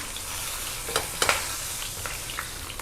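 Stuffed eggplant with a chicken filling sizzles in a frying pan as it is turned, a steady close hiss broken by a few brief clatters of the pieces being flipped. No one speaks.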